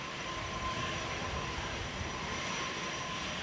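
A passenger jet moves across Manchester Airport, its engine roar a faint, steady broadband rumble with a thin whine above it, heard from a distance.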